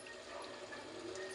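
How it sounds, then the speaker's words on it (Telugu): Water poured into a pressure cooker while making chicken biryani, a brief steady splashing, pouring rush, faint and close, with no talking. "ఇప్పుడు ఇందులోకి వాటర్ యాడ్ చేసేయండి."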